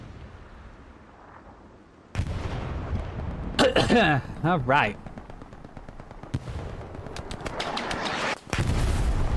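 Artillery shells landing in a 30 vs 30 match on the Kharkov map, heavy impacts and crackling gunfire arriving in loud bursts after a quiet start, with a commentator talking in between.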